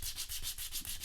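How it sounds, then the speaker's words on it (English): Quick, rhythmic scratchy rubbing of sandpaper against a sliced tractor tire's rubber, several close back-and-forth strokes in rapid succession. "So I'm going to sand this down real quick."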